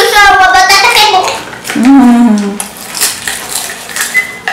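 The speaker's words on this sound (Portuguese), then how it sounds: "só eu pegando as colheres" Metal spoons clatter and clink as they are gathered up in a kitchen, sharp close rattles scattered through the stretch while voices talk over them.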